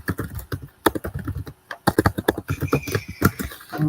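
Quick bursts of clattering keystrokes on a computer keyboard, irregular and close, with short pauses between runs of typing.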